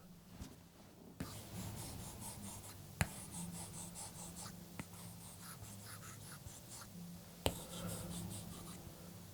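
A stylus scratches and strokes steadily across a tablet screen protector in quiet surroundings, a soft continuous rasp broken by a few sharp taps, with no talking.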